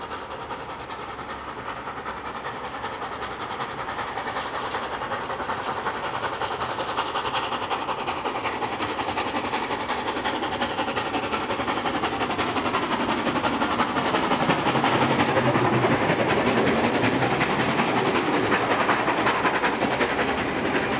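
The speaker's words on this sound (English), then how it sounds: "The locomotive and its train heads its way to Wollongong" A steam locomotive hauling a train rumbles past on the Illawarra line through Engadine, New South Wales, with rhythmic clattering and a growing roar, building louder over a long, steady stretch with no talk.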